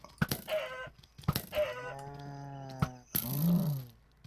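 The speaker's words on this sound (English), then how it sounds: "he's impersonating a chicken" A mob in a modded video game clucking like a chicken: four separate bursts, each a sharp click followed by drawn-out, squawking cluck and crow calls, fairly close and clear, with no voices.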